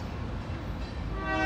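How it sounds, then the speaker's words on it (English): A small Union Pacific local freight train hauling lumber and tank cars passes in Gardena, California, with a steady loud rumble of rolling cars and a tonal horn-like note rising near the end. "It looks like a local freight train."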